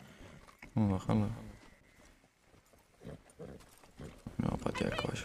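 Horse hooves clopping in Red Dead Redemption II, with a few soft, uneven thuds mixed between stretches of Spanish-speaking voices that largely cover them.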